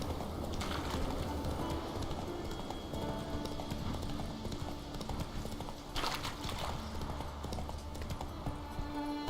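Hooves of the horse Roach clip-clop steadily in The Witcher 3, a continuous rhythmic trotting gait over ambient game sound, with faint snorting and no speech.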